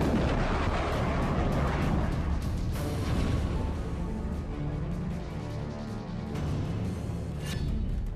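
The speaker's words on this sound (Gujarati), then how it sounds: "મિસાઇલોથી હુમલો, બોમ્બનો વરસાદ" Russian bombardment in Ukraine, with missile strikes and bombs, comes through as a dense run of sharp blasts and gunfire-like bursts that crack and boom repeatedly over continuous rumbling.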